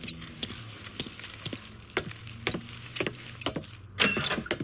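Keys jangle and clink in several sharp metallic bursts in Mafia III, fairly close and moderately loud, over a low steady engine-like hum.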